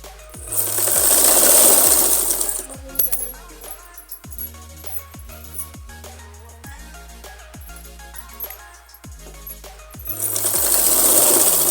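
Sewing machine stitches buckram onto the inside of a pahuncha (sleeve cuff) close to the edge, running in loud sustained bursts at the start and end with quieter, intermittent stitching and handling between.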